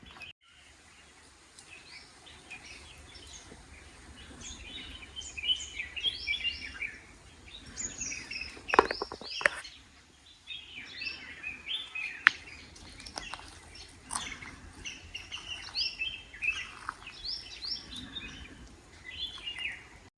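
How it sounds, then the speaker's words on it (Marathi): Many birds chirp and trill at varied distances in dense Konkan forest, overlapping calls forming a lively outdoor chorus, with a few sharper nearby notes. "फक्त पक्ष्यांचा आवाज ऐकूया"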